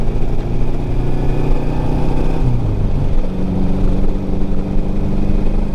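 A restored 1954 Ariel Square 4 motorcycle with a new engine and clutch is ridden, its loud steady engine drone shifting pitch midway as it changes speed, with wind noise and no talk.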